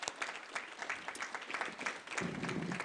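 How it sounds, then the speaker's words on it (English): An audience at an October 2025 League of Women Voters candidate forum applauds the candidates, a dense, steady round of clapping that carries through the whole stretch at moderate loudness. "Let's give the candidates a round of applause."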